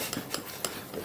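A spoon stirring a homemade teeth whitening paste in a small dish, giving a few faint, close scraping and clinking strokes at an uneven rhythm with no talking.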